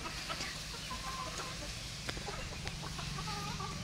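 Hens and chicks cluck softly and peep in short, scattered calls, close but quiet, over a low steady background.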